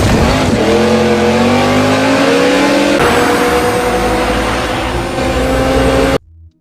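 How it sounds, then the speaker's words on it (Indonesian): A race car engine revs hard in a street race, a loud sustained roar climbing in pitch with a gear shift midway, then cutting off abruptly. "Lalu Brian dan Toretto balap dadakan, yang berujung keduanya lolos."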